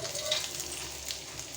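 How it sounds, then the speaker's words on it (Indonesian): Ginger sizzles steadily in oil in a pan as it is stir-fried, a close, even hiss with light stirring scrapes, while a cook prepares a large fish dish. "Saya tumis terlebih dahulu jahenya, saya masukkan dari awal jahenya, tumis sampai harum"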